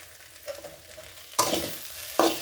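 Okra curry frying in a pan, a soft sizzle that bursts louder twice as it is stirred, close by, with no talking.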